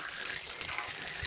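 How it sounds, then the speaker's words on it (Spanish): Water gushes steadily from a cold-water wall outlet during a plumbing leak test, a continuous hissing rush at close range with no talk over it. "Miren, ahí está saliendo el agua."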